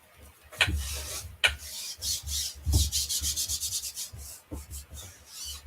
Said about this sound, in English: So I'm just burnishing it down.